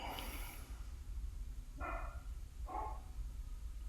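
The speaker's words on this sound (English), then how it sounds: "you hear them dogs barking in the background" A few distant dog barks ring out, spaced apart, faint over a low rumbling background with no talking.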